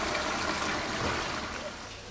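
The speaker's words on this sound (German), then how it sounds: "Ja, es plätschert." Floodwater seeping through a washed-out hole in Opladen, Leverkusen, splashing and trickling in a continuous close gush that eases slightly toward the end.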